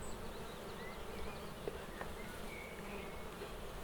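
Honeybees working inside an open hive while building out comb, giving a steady, close insect buzz and drone that holds evenly throughout with no voices.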